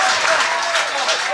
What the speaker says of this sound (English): Philip Henning, and appreciated by the partisan crowd